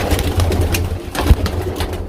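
Young pigeons coo in low, throaty repeated calls, close and fairly loud, over a busy background of rustling and movement.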